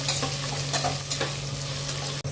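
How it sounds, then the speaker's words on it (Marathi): Onions frying in a pan while being stirred: a continuous close sizzle with scraping spatula strokes and a steady low hum underneath, ending with a brief dropout, no talking. "ते सर्व टाकून मग व्यवस्थित हलवून घ्यायचं"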